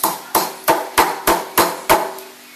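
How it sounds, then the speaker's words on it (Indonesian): Sambal Padang ingredients pounded in a mortar, seven sharp evenly spaced thuds about a third of a second apart, close and loud with no talk. "Tumbuk dengan gerakan agak menggeser, bukan tuk-tuk-tuk tapi agak menggeser, supaya hasilnya lebih cepat dan lebih halus."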